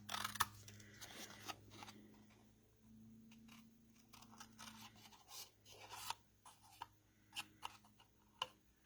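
Scissors snipping out a paper sticker along straight lines, a series of faint, close crisp cuts and rustles growing more distinct and regular toward the end, very quiet with no talk.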